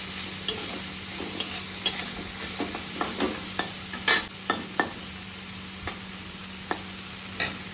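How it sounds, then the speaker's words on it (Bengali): Dried small kachki shutki fish fry with salt and turmeric in a pan, a steady close sizzle punctuated by regular scraping stirs of the spatula, with no talking. "শুটকিগুলো ভাজা ভাজা হোক।"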